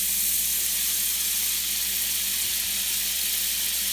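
Butter sizzles steadily in a warmed cast iron pan on low heat, a close, even hiss that holds without a break.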